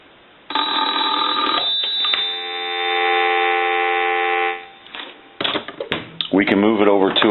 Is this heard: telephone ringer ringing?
yes